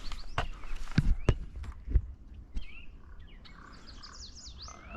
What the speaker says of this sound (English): That was, I think, a warbler, but I don't think it was a yellow one.